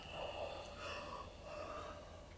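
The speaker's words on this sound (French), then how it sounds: "On prend le temps et même provoquer le bâillement." A drawn-out yawn, deliberately provoked during a reflexology self-massage session, heard as a breathy, airy exhalation that swells and fades over a couple of seconds, with no talking.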